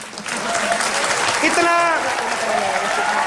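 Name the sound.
studio audience applause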